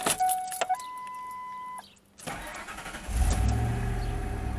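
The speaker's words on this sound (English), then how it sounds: "I love the sound of that Flowmaster." A truck with a Flowmaster exhaust starts up after door chimes and the starter's crank, catching into a deep, loud, steady rumbling idle close by, with wind noise.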